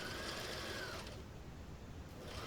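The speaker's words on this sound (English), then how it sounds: "My sewing machine needs a name" A sewing machine runs steadily with a continuous dense mechanical whir, fairly close and even throughout, with no talk.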